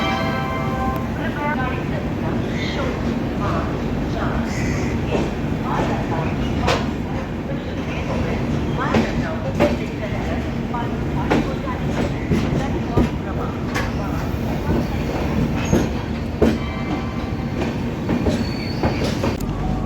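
The Kaziranga Express, running from New Coochbehar to Kolkata, rolls steadily on its rails with continuous rumble and clickety-clack, plus occasional sharp clanks and squeals, heard from inside the train over twenty seconds.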